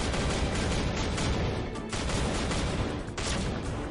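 Gunfire in the shooting mode of a Legend Hero game episode, a loud, dense barrage of rapid shots and blasts continuing throughout with brief dips.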